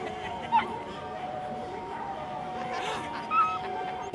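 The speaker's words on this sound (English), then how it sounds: "Puppy!" A puppy in a video game whimpers and yips with a few short, high cries over a steady bed of game music and ambience, while people talk around it.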